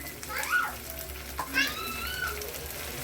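Tomato puree sizzling as it is stirred into hot oil with fried coriander in a pan for a matar masala dish, a steady close frying hiss with a few brief high squeaks from stirring and no clear talk.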